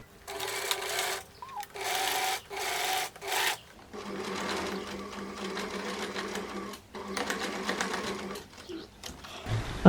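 A sewing machine stitches a pants seam in several bursts of rapid whirring, first three short runs, then a longer steady run with a brief pause, close up and clear.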